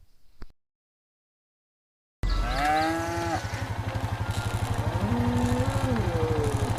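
A cow in the LEGO Jurassic World video game gives a long, wavering moo after a brief click and a moment of silence, set over a steady, pulsing motor-like drone from the game.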